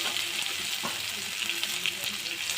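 Onion sautéing in hot oil as the start of a chicken curry, a brief, dense, close-up sizzle with faint stirring that stays steady and loud from start to finish.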